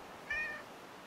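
A pet cat gives one short, clear meow while waiting for food, a single close tonal call over quiet room background.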